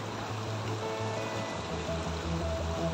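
River water flows steadily in a clear jungle stream, a continuous close rushing and babbling wash that fills the whole stretch with no voices over it.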